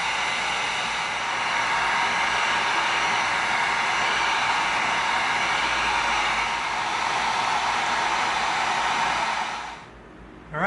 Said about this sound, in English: let's give this whole thing a once over with the heat gun to seal it